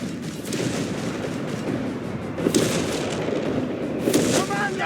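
Gunfire and explosive bursts in a Company of Heroes 3 battle in the North African desert at Gazala, with a steady wash of combat noise and a few louder cracks standing out from the din.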